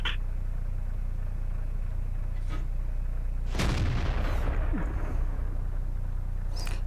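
Tank gun firing in a tank video game, a single heavy boom midway that rolls off into a rumbling decay, with a couple of faint thumps before and after over a low steady hum.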